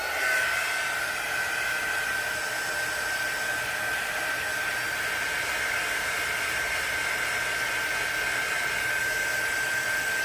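A hair dryer runs continuously at close range, blowing over ceramic resin pieces with a steady, loud whirring hiss and a sustained whine that never lets up.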